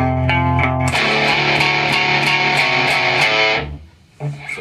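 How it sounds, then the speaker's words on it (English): Distorted electric guitar playing a riff, starting with a few clean plucked notes, then a loud sustained fuzzy chord wash that cuts off and is followed by a brief quieter strum. "he kicks on his distortion"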